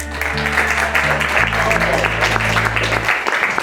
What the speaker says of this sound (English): So if we could give a big round of applause for our host, John Clark.